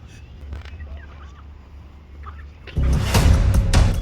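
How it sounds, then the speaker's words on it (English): Kashmiri ducks in a poultry yard break into a loud, agitated burst of honking calls partway through, after a quieter stretch of faint squawks and background noise. "Looks like the Kashmiri ducks also got mad of Ron's intrusion"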